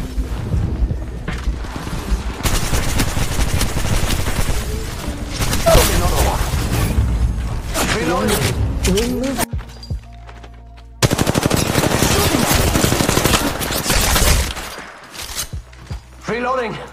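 Rapid automatic gunfire in the Apex Legends Mobile video game during a ranked match, loud bursts and sustained volleys with a brief lull midway, mixed with booms and mechanical clicks.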